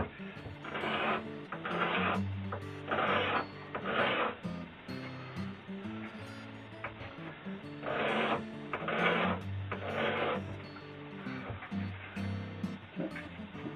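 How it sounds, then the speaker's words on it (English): Sandpaper rubbing back and forth over wooden guitar kerfing, raspy bursts in a steady rhythm close by, with a quieter scraping pause between strokes and no talk. "Just slightly proud, which is okay. We'll just sand it down a touch."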